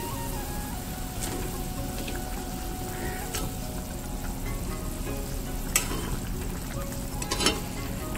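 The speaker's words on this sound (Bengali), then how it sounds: "আমি এবার এক এক করে মাছগুলো দিয়ে দেবো, ভেজে রাখা মাছগুলো দিয়ে দেবো সব।" Fried bhola fish pieces are dropped one by one into a boiling fish curry, giving a steady close sizzle and bubbling with a few soft splashes and clinks, and no voices.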